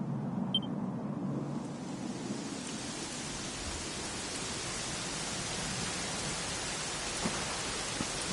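Steady rain in the Dragon Quest XI role-playing game, a continuous even hiss of falling water that holds at a moderate level throughout with no voices over it.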